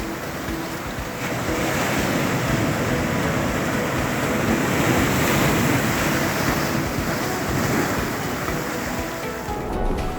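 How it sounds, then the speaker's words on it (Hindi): Aggressive sea waves surge onto Kovalam Beach in Kerala in the early morning, a loud, constant roaring wash of surf mixed with wind buffeting the microphone, no voices. "समंदर काफ़ी एग्रेसिव हो गया है।"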